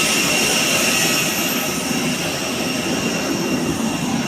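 Air India airliner at an airport, its jet engine giving a steady, loud broadband roar that holds constant with no voices over it.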